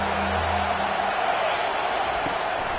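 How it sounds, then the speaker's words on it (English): A college football stadium crowd at Alabama versus Wisconsin roars in a dense, continuous wash that holds steady the whole time, with no breaks or distinct voices standing out. "This crowd bringing the energy and noise early."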